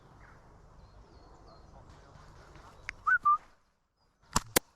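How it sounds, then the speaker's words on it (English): A short, two-note whistle rises out of faint background noise in an airsoft match clip, followed moments later by a couple of sharp, loud pops. "Yes, I love the whistle."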